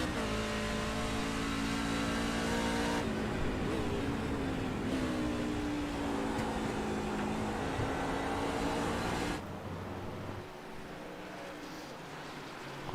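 A high-horsepower race car engine roars loud and steady, pitch sweeping as it climbs through gears, then drops sharply in level near the end as the note falls away.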